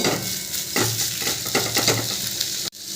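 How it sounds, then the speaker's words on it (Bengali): Potatoes mixed with spices for chilli chops, stirred around a hot pan, make a close sizzle with repeated scraping strokes of the spoon, ending in a sudden cutoff. "ভালো করে এই মশলাটার সাথে আলুগুলো মিশিয়ে নিচ্ছে"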